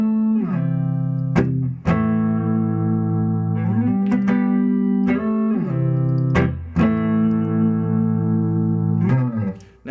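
A Carvin SH550 semi-hollowbody electric guitar on its bridge pickup plays a warm, sustained tone, several chords ringing out one after another with sharp attacks and a slight effects sheen, alone with no voice.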